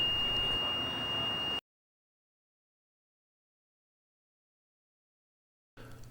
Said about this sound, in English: the portal should alarm as the person walks through